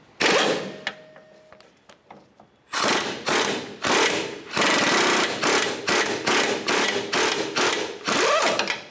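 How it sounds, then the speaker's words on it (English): Loosening a sway bar link nut on a 2005-2010 Chevrolet Cobalt with an 18 mm socket and extension: a few quiet clicks, then loud rapid bursts of a power tool hammering the nut, close and dominant. "I'll use my 18 millimeter socket with an extension and remove this nut."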